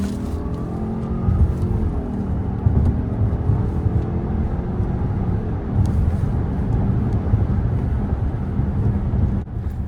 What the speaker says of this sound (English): Let's start things off in the Ascent with an acceleration test.